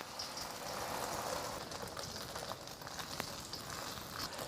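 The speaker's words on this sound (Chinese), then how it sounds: "先把鸡蛋煎一下。" An egg frying in a little oil in a pan, a soft, even sizzle heard close and fairly quiet, hissing steadily like light rain with a few faint crackles.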